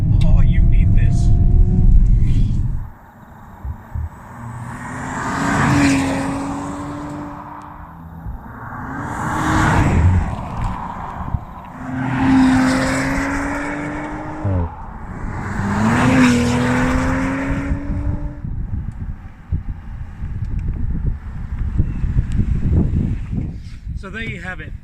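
A 2019 Audi RS5 Sportback V6 accelerates hard through four rising gear pulls, each engine note climbing then dropping at the shift, loud and close with a throaty rumble.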